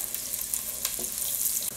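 Onion and chives frying in hot oil in a pan, a steady bright sizzle with a couple of brief stirring scrapes, close and continuous.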